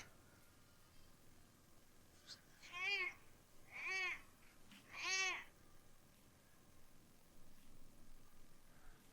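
A pet cat meows three times in a row, each call clear and fairly close, spaced about a second apart over a quiet indoor background with no talking.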